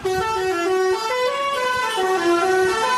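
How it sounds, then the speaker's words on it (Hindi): A loud, tuneful bus horn honks continuously, its pitch shifting between notes like a musical horn, with no talking. "बस वाले भैया, मैं एक बार हॉर्न बजा के देखूं?"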